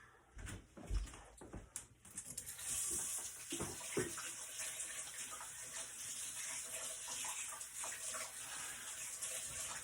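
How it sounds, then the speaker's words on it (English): Tap water runs steadily into a sink while a lemon is rinsed in a home kitchen, a continuous quiet hiss after a few soft knocks and clatters at the start. "I'm going to go rinse our lemon."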